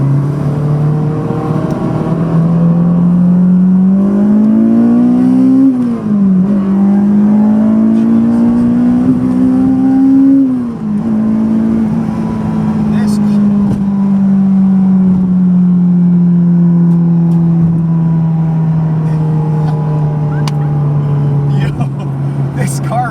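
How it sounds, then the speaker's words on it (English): Honda Civic Type R, right-hand drive, pulling hard through second gear into third; a loud, close engine note climbs steadily, dips briefly at the shift and climbs again, continuing through most of the stretch. "We're gonna see if we can get a nice second to third gear pull around here."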